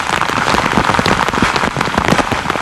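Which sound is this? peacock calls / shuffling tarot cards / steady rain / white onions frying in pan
steady rain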